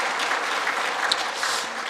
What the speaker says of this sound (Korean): 우리 박수 한번 해드리겠습니다.